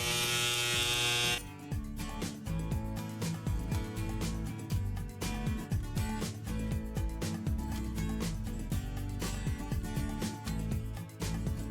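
Electric hair clippers with a number 3 guard buzz continuously through a home haircut, a steady close motor drone broken by many short rasping strokes as they pass through hair, with no talking.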